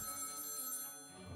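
Telephone bell ringing inside the South Park video game, a steady electronic ring tone with bright harmonic bands, moderately loud and continuous for a moment before fading slightly.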